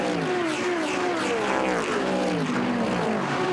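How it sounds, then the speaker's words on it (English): GT endurance race cars at Monza, including Ferrari, Jaguar, Mercedes and Lamborghini, power up toward the Variante Ascari, their engines droning and rising in pitch as several pass at a moderate distance, with no talk. "Wonderful noise as the cars power up towards the Variante Ascari."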